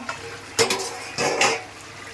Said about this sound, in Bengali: মা এখন নেড়ে চেড়ে মা এখন ঢেকে দিচ্ছে ঢাকা তুলে নিচ্ছে